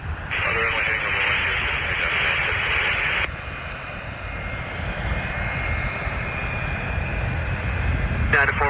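A United Boeing 737 jet takes off from runway 10 at Syracuse in the early morning, its engine a broad steady roar that fills the whole clip, while tower radio chatter runs over it.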